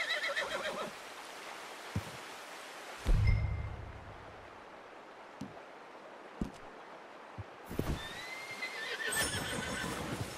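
Horse neighing in Red Dead Redemption 2 on an outdoor trail, with a loud whinny at the start, hoof clops and thumps through the middle, and another whinny near the end.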